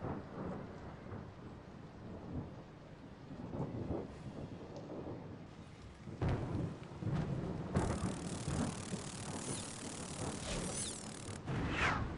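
Stormy weather in the Harry Potter and the Prisoner of Azkaban PC game, rolling thunder and steady rain with rumbling swells and bursts of harsher rain noise, continuous throughout and without speech.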